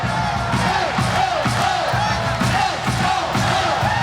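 Restless crowd at a Hawaii Rainbow Wahine volleyball match against UCSB chants and shouts through megaphones, a loud rhythmic roar of voices pulsing roughly twice per second, close and continuous throughout.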